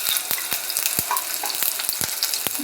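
Ginger-garlic paste fries in hot oil for ragda pattice, a dense, steady sizzle close by, punctuated by regular sharp ticks and spatters from stirring, with no voices.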